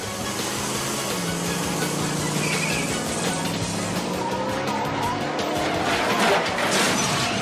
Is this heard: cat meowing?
no